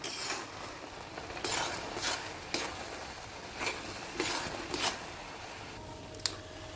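Carrot halwa with cashews and almonds stirred in a pan, a spoon scraping and sweeping through the thick mixture in repeated strokes, with a faint sizzle beneath, close and fairly quiet, no talking.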